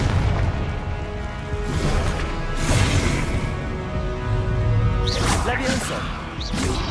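Fiery Confringo blasting spells go off in Hogwarts Legacy, heavy booms and crackling bursts recurring through the stretch amid constant game clatter, with a voice talking over the action.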